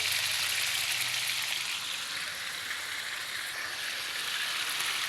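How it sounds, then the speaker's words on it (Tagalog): Squid pieces fry in hot cooking oil with a steady, loud, dense sizzle that holds unbroken throughout, no talking. "konting ingat lang sa pagprito kasi baka mamaya tatamaan ng mantika yung ating budlat"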